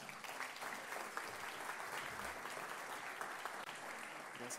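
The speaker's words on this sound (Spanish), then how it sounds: "Un aplauso para el doctor Constantino Riquelme." A large audience at an international judicial forum claps for a speaker, a faint, even wash of many hands heard from a distance and sustained throughout.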